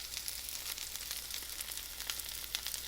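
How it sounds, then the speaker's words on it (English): Close, steady sizzling of tilapia fillets frying in a hot pan, crackling and popping continuously with no voices. "You can hear the sizzle, that means it's hot"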